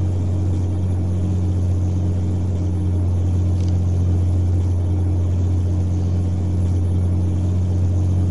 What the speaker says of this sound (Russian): Звук выхлопа такой, как прогоревший глушитель такой, секет уже.